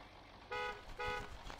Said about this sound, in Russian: Клаксон у нас такой легковушечный